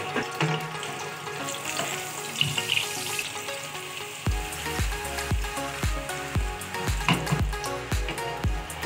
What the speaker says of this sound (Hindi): पहले हम इसमें अंडा फ्राई कर लेंगे।